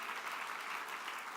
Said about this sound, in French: est-ce qu'on peut applaudir une dernière fois le Seigneur Jésus